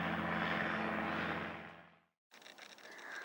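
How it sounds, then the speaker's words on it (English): A helicopter circles over a marina, its loud engine and rotor drone filling the air before fading away into a short silence, followed by softer, distant noise. "that is David doing a circuit of the marina in his helicopter"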